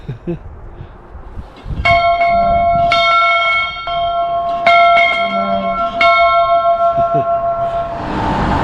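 A memorial bell at Rogers Pass is struck by a visitor several times, each loud, ringing strike sustaining and overlapping the last, with faint background sounds in between.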